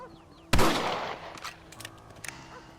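A single sharp rifle shot in Red Dead Redemption cracks close and loud, then rings out in a decaying echo with faint clatter after it.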